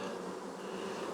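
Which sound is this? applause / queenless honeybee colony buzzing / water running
queenless honeybee colony buzzing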